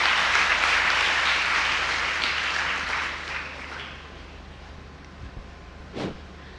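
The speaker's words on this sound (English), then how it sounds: "a round of applause for everyone here who has done this" A crowd's applause swells loud at first, then fades and dwindles over several seconds, leaving a quieter room with a couple of isolated knocks near the end.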